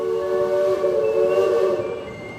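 Amusement park train at Cedar Point, a loud, sustained whistle tone held for about two seconds close by, then tapering off, with no talk.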